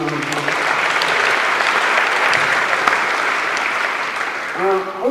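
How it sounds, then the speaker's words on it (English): Audience applause at a homeless town hall, sustained clapping from a seated crowd held at an even level for several seconds, with a voice speaking briefly at the start and end. "So can we give them a round of applause?"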